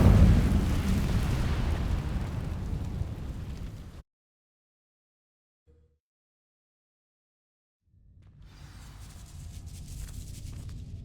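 A roaring burst of flame from the Incendio spell sets dry vines alight in the Hogwarts Legacy video game, a loud rumbling blaze that cuts to silence, then a softer crackling rush returns.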